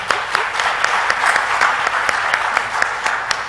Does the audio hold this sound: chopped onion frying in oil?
no